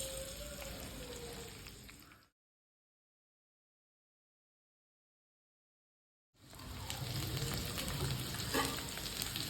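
Ivy gourd (kovakkai) sautéing in oil for a curry, a steady crackling sizzle with soft stirring, close and continuous, broken by a silent gap of several seconds midway.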